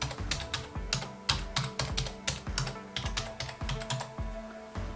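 A password is typed on a computer keyboard while installing an app on an iMac or MacBook, producing a quick, even run of close, crisp key clicks with no talking.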